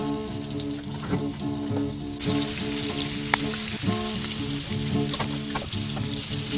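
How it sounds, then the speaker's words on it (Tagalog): Chicken pieces fry in melted butter with a dense continuous sizzle and crackle, close and moderately loud, with occasional sharp pops and stirring clicks over a low pan hum, no talk. "let's just melt our butter guys, and we're going to cook our chicken here guys"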